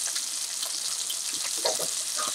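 Sockeye salmon frying in a pan just after being turned, a dense, bright, steady sizzle with small crackling pops, close and continuous with no talking.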